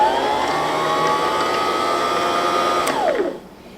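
A Brother MZ53 sewing machine winds its bobbin with a loud, close, steady motor whine that rises slightly in pitch, then quickly winds down and stops near the end.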